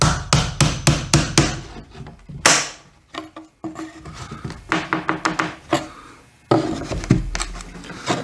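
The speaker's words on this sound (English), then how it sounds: "we're going to just tap our painter's tool in, same way. Give it a little pry." A painter's tool is tapped in behind baseboard trim and used to pry it off. Close, sharp tapping knocks come in quick runs, with woody creaks and scraping between them.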